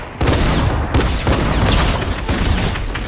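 Rapid, dense gunfire from a Fortnite match, loud and close, a near-continuous volley broken by a few heavier booms across the whole stretch.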